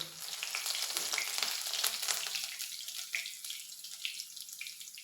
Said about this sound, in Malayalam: ഇഞ്ചി നല്ലപോലെ എണ്ണയിലിട്ട് മൂപ്പിച്ചെടുത്തേച്ച് അതിലേക്ക് പച്ചമുളകും ഇടും